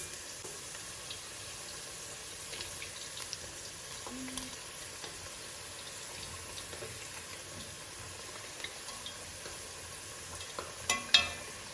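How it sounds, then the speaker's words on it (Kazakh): Potatoes and meat fry in plenty of oil in a kazan for kazan kebab, giving a faint, steady sizzle with occasional soft stirring clinks, a few sharper scrapes near the end. "Майын осылай көп құясыздар, себебі картошкамыз, етіміз жақсылап қуырылып алуымыз қажет."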